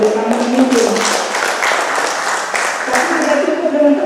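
An audience at a public literacy event in Pandeglang claps in a broad, steady patter of many hands, with a voice speaking over it.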